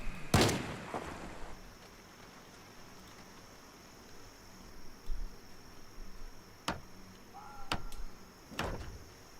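A shotgun fires in Project Zomboid: one loud blast at the start, then quiet with sparse sharp clicks and a few faint thuds spread across the rest.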